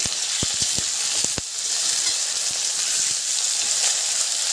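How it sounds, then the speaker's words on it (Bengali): Potatoes and onions crackle and sizzle loudly in a pan, frying for a jackfruit curry, a continuous hiss with quick sharp pops and spatula taps, especially in the first second. "এবার দিয়ে দেবো আলু আর পেঁয়াজটা দিয়ে ভালো করে ভেজে নেব"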